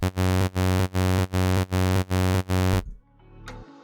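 A harsh, buzzy saw kick drum synthesized in Vital pulses in seven rapid identical hits, then cuts off into a brief quieter tail.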